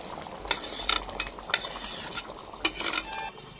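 Prawns go into a pan of jackfruit curry, giving a quiet sizzle with irregular scrapes and metallic clinks of a utensil against the pan, close and fairly soft.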